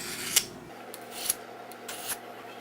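Quiet rhythmic scraping strokes of a blade drawn across a sharpening surface, a few separate passes with soft hiss between them.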